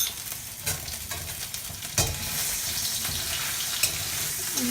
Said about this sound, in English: After 5 seconds, add the onion. Vinayak, stir it.